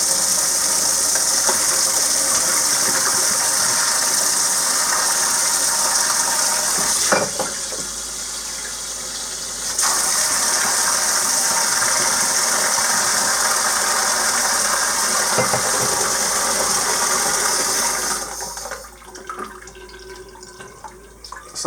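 Steel ball bearings rattling and sloshing inside a shaken glass demijohn during cleaning, a dense continuous loud clatter with brief changes and a pause, fading to quieter jostling at the end.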